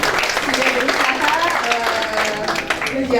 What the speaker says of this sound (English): Kita bisa kasih applause ya karena teman-teman kita sudah berusaha